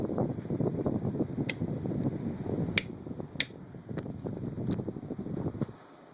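An antique 56-inch Emerson ceiling fan, burnt out and smelling but with sound bearings, runs with a steady low whirring drone and scattered faint ticks, then winds down quietly near the end.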